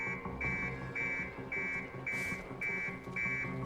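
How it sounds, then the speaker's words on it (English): An alarm in the stealth video game Hitman blares in a steady repeating pattern of loud electronic beeping pulses, about two per second, over a low hum of game ambience. "Turn off the alarm."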